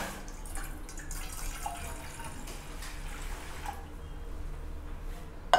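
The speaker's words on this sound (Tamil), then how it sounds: "இப்போ இந்த பேனில் ஃபஸ்ட்டு தண்ணியை போடணுமா மேகியை போடணுமா?" Water poured into a pan to boil for noodles, a soft continuous trickle and splash, fairly quiet and close, ending with a brief clank.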